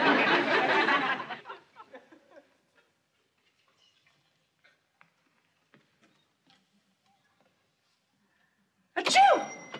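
A woman's single sharp sneeze bursts out near the end, after a stretch of near silence with a few faint ticks, following earlier speech in a television sitcom scene.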